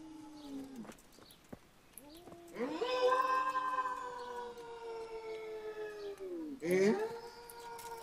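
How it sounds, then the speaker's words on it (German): A dog in the video game Kingdom Come: Deliverance lets out long, wavering mournful howls, one sustained cry followed by a second rising howl, fairly close and clear against a quiet background. "Das ist der Hund."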